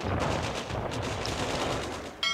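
Artillery bombardment in the WWI strategy game Making History: The Great War, a steady close barrage of rapid gunfire-like booms that rolls on continuously and ends with a sharp crack.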